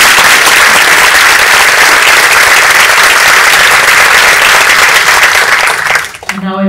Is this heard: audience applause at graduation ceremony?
yes